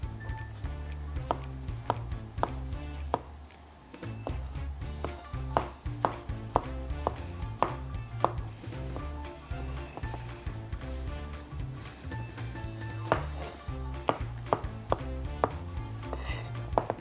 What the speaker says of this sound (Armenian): կտրատենք շամպինյոնը